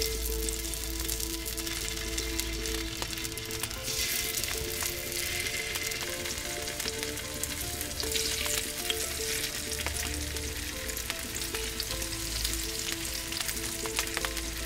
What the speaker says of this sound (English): Once the oil is hot, I'll place the potatoes in the pan.